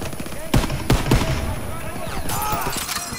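Gunfire in the video game Call of Duty WW2, three sharp loud shots in quick succession followed by busy battle noise and a rising whine, with a player talking over it.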